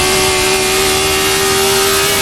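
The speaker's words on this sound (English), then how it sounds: "these sounds are going to end up in a lot of other stuff in Assetto Corsa, because the DFV obviously is such a prolific engine in racing" Cosworth DFV racing engine from 1970s racing, heard in the Assetto Corsa racing game, holding a steady loud engine note with a strong constant tone throughout, no speech.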